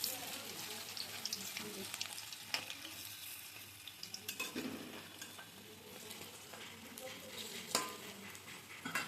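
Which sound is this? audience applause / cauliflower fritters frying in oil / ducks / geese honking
cauliflower fritters frying in oil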